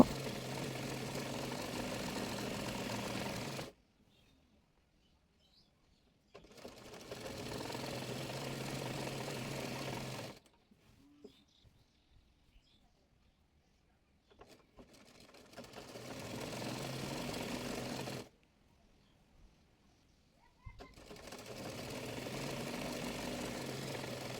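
Sewing machine stitching around a salwar hem, running in three steady whirring bursts of a few seconds each, separated by near-silent pauses.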